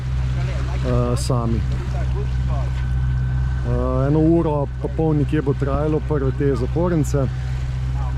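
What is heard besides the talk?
sailing boat under way in the Panama Canal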